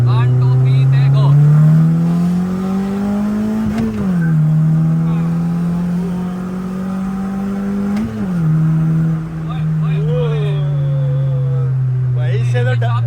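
A Suzuki Project FX car accelerates hard in second gear in a drag race against a Toyota Grande 1.8, its loud engine note climbing steadily in pitch through two brief dips, with tire noise and voices in the background.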